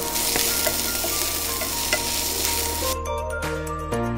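Onions and green chilies sautéing in a pan for palak paneer, with a steady close sizzle and the scrape of stirring that carries on without pause, no voices.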